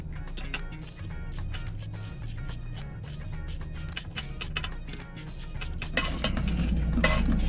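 A hand ratchet tightens the bolts holding an RV toilet down, giving a steady run of quick clicking ratchet strokes over a busy mechanical background that grows louder near the end.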